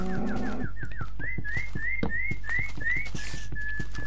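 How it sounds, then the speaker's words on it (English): Birds in the game Minecraft whistle and chirp in a steady run of bright, rising notes, close and loud over a constant low background hum, with no one talking. "Those birds are loud."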